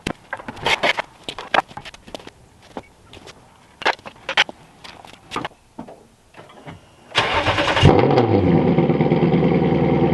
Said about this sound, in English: we're taking it for a drive to see how the transmission feels